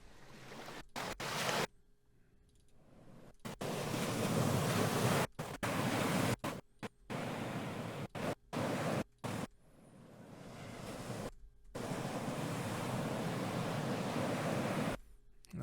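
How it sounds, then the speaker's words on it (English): Ocean waves roll and wash as background ambience, a broad steady surf hiss that swells and cuts out abruptly several times, with short gaps of near silence between the sections. "So obviously we need an ocean sound effect here. Let's give it some background ambiance."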